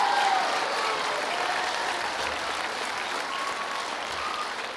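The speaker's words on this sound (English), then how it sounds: "So can we give them a big round of applause for the lighting and the sound magic?" A school choir concert audience applauds the lighting and sound crew, producing a full, sustained round of clapping from a large crowd that continues evenly and tapers only slightly.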